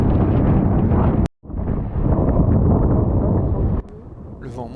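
Strong, roaring 30-knot wind buffeting the microphone on a racing sailboat, loud and continuous, broken once by a brief cut in the sound.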